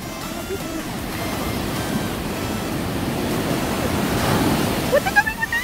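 Sea waves wash in steadily at West Bay beach on the English coast, a continuous broad surf roar that swells slightly toward the end, with wind noise and brief high tones near the close.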